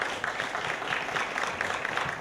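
Sustained audience applause from a crowd at a Ghana Youth Day event, a steady dense wash of clapping that holds at an even level throughout without any voices standing out.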